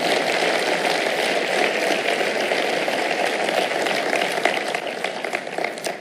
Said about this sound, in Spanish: dar un tremendo aplauso a Jesús.